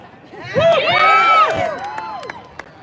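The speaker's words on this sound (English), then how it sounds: "What a crowd." A crowd at a Second Amendment rally in Lansing cheers and shouts, a loud swelling roar of many voices with whoops rising then tapering off, scattered claps and a few calls trailing after.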